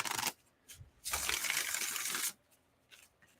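Tarot cards being shuffled by hand, a short riffle followed by a longer crisp burst of flicking cards, then a few light taps, close and fairly quiet with no talk.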